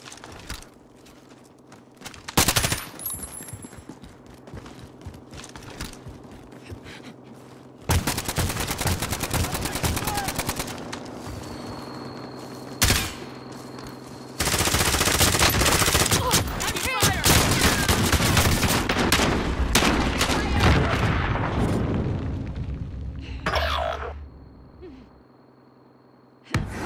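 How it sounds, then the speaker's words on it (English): Bursts of video game gunfire, some long rattling volleys and some single loud shots, crackle through the stretch, with brief quieter gaps between them. "Oh, God, I'm taking fire."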